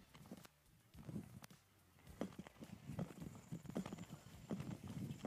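Horse hooves clip-clopping on an arena surface during a riding lesson, a steady rhythmic series of soft, fairly near thuds with faint background ambience.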